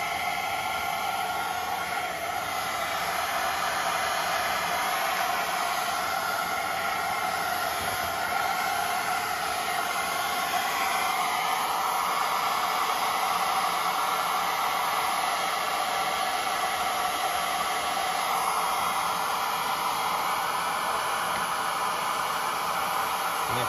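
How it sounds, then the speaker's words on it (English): Hair dryer running on low power, blowing over parts of a Westclox Big Ben Style 7 clock movement after cleaning, a steady close airy whoosh holding level throughout with no talk. "This hair dryer, you know, it's on low. It's not running on full power"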